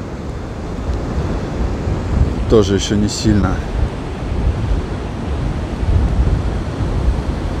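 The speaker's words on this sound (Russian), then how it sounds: "Море волнуется." Steady, loud roar of Black Sea waves and surf on the shore at Anapa in strong wind, with wind buffeting the microphone throughout and someone speaking briefly partway through.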